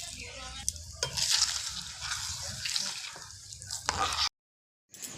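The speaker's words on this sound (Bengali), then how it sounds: "তো টকটা ফুটে গেছে" Tamarind sour sauce bubbles and simmers in a pan, a soft continuous sizzle with stirring scrapes and a few sharper clinks, close up, cutting off briefly near the end.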